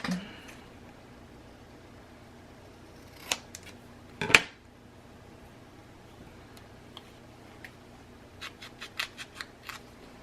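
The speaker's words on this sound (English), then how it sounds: "I'm going to have to cut this straight" Scissors cut album cover paper in a quiet room, giving a couple of separate crisp snips early on and then a quick series of short snips near the end.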